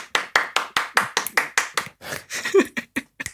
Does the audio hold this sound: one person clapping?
yes